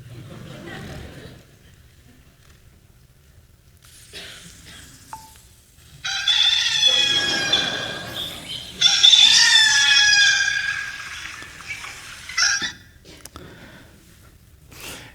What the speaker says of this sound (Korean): 제 전화기에 알람하고 전화 벨소리를 닭 울음소리로 바꿨습니다